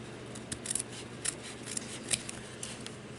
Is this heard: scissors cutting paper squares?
yes